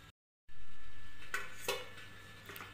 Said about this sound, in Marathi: आता चला तर आता लो फ्लेम करून याच्यावर झाकण ठेवूयात.